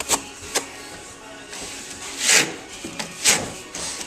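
American Clay plaster being trowelled along wall seams: a steady scraping rasp broken by a few sharper swipes and strokes, close by, with no talk.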